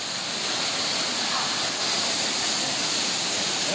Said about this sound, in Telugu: అల్లూరు జిల్లాలో ప్రకృతి ప్రేమికులను కట్టిపడేస్తుంది కొత్తపల్లి జలపాతం.